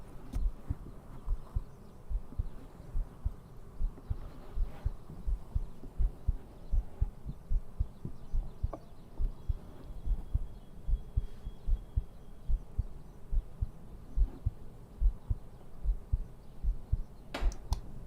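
A human heartbeat throbs close and steady at a slightly quickened pace, soft low thumps repeating evenly with no other sound around them.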